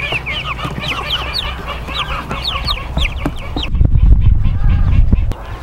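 Several chickens in a small chicken tractor on grass cluck and squawk close by in a busy, overlapping chorus, followed near the end by louder rustling and scratching noises.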